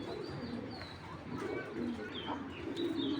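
Black racer pigeons cooing in low, steady murmurs, with a few faint chirps above, at moderate level and without clear speech.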